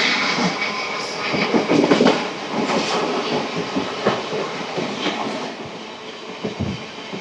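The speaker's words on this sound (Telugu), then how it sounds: "పక్కన లోకల్ ట్రైన్." A Chennai suburban local train rumbles past a station beside the Chennai Metro line: a steady rushing, hissing roar with scattered rattles and wheel clatter, moderately loud and continuous throughout.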